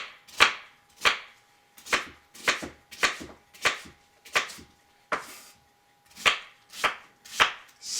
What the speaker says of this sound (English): slice on these into a small, medium-sized chunk.